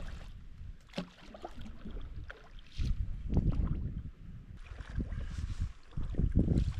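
Canoe paddled with a hockey stick in place of a paddle on cold water: soft, irregular splashes and swishes of strokes, near and fairly quiet, with light wind noise across the microphone.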